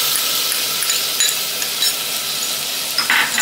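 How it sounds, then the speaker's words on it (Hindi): Ginger, garlic and green chilli paste sizzles loudly with browned onions in a pan while being stirred for a singhara curry, a steady close crackle throughout. "अब इसमें मैं अदरक लहसुन और हरी मिर्च का पेस्ट डालकर इसको भी भून लूंगी।"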